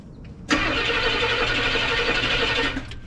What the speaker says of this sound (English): Actually, it went into reverse and it started cranking.